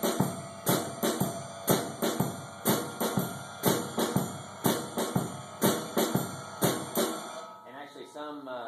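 Jazz drum set playing a shuffle groove, snare with the ride cymbal. Steady swung strokes repeat evenly for about seven seconds, then stop, and a brief voice follows at the end.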